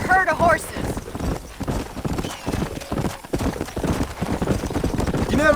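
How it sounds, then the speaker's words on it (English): Horse hooves clip-clop steadily in Red Dead Redemption (2010), with a horse neighing and whinnying near the start and end, all under ongoing conversation between characters. "Let's see if we can track down that other herd of horses"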